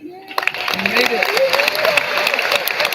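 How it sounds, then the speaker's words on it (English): An audience at the 2023 Finley Awards ceremony breaks into applause that swells within a second into sustained, crowded clapping, with voices talking over it. "What are we clapping? We're clapping."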